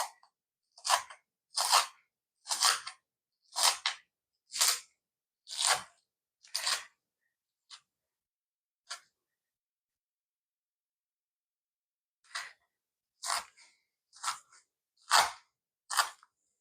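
Bacon is sliced into chunks with a knife on a board, a quick series of crisp crunchy cuts, then a pause before another run of cuts, close and fairly quiet with no talk.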